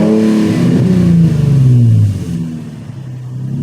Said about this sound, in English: Go ahead and rev it a few times.